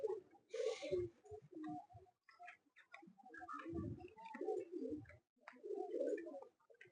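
Pigeons at a flying-pigeon show coo in soft, repeated low bursts, close by and fairly faint, with scattered small ticks and rustles in between.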